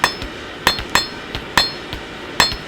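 A blacksmith strikes hot steel on an anvil with a hammer, giving sharp, bright ringing clangs at an uneven pace, loud and close, each ring fading quickly between blows.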